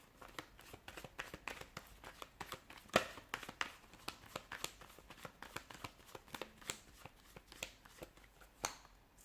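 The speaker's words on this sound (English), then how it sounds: "give the cards a shuffle and begin" Tarot cards being shuffled by hand, a quiet run of quick papery riffles and flicks with uneven rhythm, close and alone with no voices.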